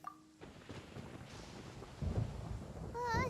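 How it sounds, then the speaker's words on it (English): A thunder rumble builds in a storm in the game Genshin Impact, a low roar swelling toward the end, with a brief tone at the start and a rising chime-like sound layered over the final moments. "Paimon hears thunder!"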